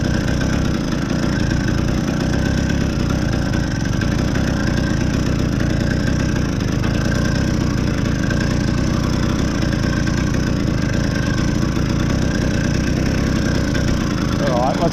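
A Mk5 BT100 tractor engine idling close up, a loud, steady, rattly chug that holds unbroken and even from start to end.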